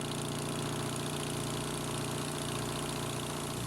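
Gasoline engine driving the pump and auger of a crack sealer runs at a steady, loud idle, a continuous even drone with a rough low rumble and no talk over it.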